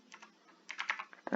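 Keys clatter on a computer keyboard as a Linux command is typed, a quiet sparse run of taps followed by a louder quick burst of keystrokes.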